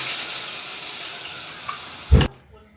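Ginger, garlic, green chilli and onion frying with cumin in hot oil give a bright, continuous sizzle that fills most of the moment, then a short clatter near the end before it cuts off to near quiet.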